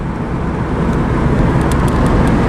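A car cruises along Lakeshore Drive in Chicago. Heard from inside, it makes a steady, loud road and engine rumble with constant tyre roar and no break.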